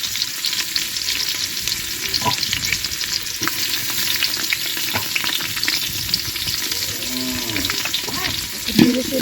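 Onions sizzling in hot oil for vegetable khichuri in an outdoor village kitchen, a steady broadband hiss throughout with scattered stirring knocks, a cow lowing faintly in the background near the end.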